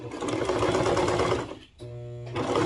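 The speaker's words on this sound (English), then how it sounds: "I'm going to use my serger and see how it goes." A serger sews a binding strip with a dense, fast mechanical whir. It runs steadily, stops briefly near 1.7 seconds, then restarts close and loud.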